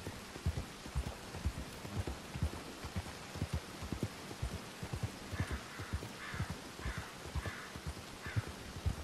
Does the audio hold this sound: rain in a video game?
yes